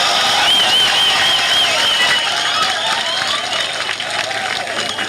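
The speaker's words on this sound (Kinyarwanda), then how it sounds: "mwiha amashyi" An audience at a Rwandan commemorative gathering bursts into sustained applause, loud and dense at first and gradually thinning, with cheers and a few voices mixed into the clapping.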